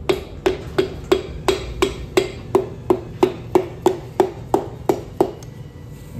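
A piston is tapped down into a Ford 4.6L DOHC engine block with a series of about fifteen sharp, evenly spaced knocks, each a short ringing hit, close and clear with no talk.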